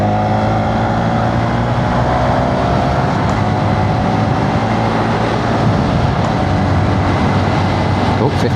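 A Honda Monkey motorcycle engine accelerates on a road ride, a loud steady drone with rising pitch under heavy wind rush, continuous throughout.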